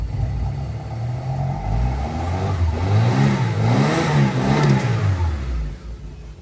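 A Japanese-market car at a Yokohama auction, its engine running rough and reluctant to idle, rumbles near and loud, then revs up in two uneven swells and drops back down, with no talking.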